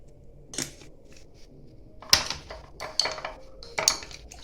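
A spoon stirs a drink mixed with two small spoonfuls of olive oil, giving a few sharp, close clinks against the container with quiet pauses between, and no one speaking.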